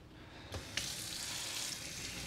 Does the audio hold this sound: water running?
yes